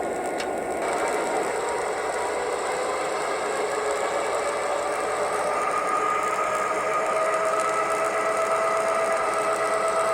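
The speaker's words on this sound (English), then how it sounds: "you can also go from idle up to a higher notch." A diesel locomotive engine sound, played from a sound boxcar, rises from idle to a higher notch as a steady, loud mechanical drone with a climbing tonal whine, continuous throughout and without talk.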